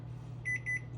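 A kitchen timer beeps in a home kitchen during cooking, four quick soft high beeps over a steady low hum.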